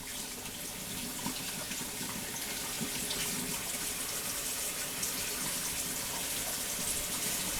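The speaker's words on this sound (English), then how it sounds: "I'm going to wash the sticky off my hands." Hands being rinsed of sticky jalapeno syrup under a running kitchen tap, a steady close rush of water splashing into the sink throughout, with no talking.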